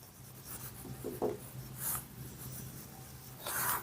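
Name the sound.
writing on paper during a maths lesson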